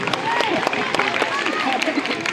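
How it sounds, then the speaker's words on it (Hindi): Schoolchildren at a government secondary school welcome ceremony clap loudly, a steady, dense patter of many hands throughout, with voices mixed in. "तालियां बजाएं सभी बच्चे जोर से"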